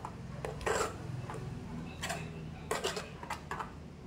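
Kimchi mixture being stirred in a bowl, with a few irregular clinks and scrapes of utensil against the dish over a steady low background hum.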